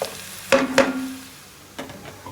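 Onions sautéing in a pan for Nagercoil-style mutton biryani, with two sharp scrapes of a spoon against the metal, a steady faint sizzle, and another stir near the end.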